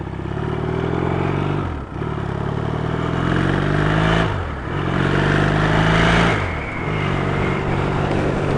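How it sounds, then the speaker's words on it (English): A motorcycle's exhaust is heard while riding, recorded from a bag on the rider's shoulder, a loud continuous engine drone that rises in pitch through the gears with three brief dips at each shift. "see if I can get a better sound of the exhausts"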